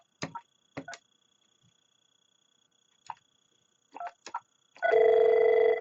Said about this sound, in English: And now it's ringing the outside line.